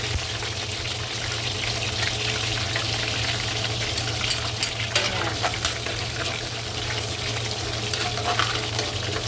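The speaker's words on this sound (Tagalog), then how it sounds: "At magigisa na rin po tayo ng bawang at sibuyas." Garlic and onion sauté in a pan with a steady, continuous sizzle and occasional stirring scrapes, quiet and fairly close.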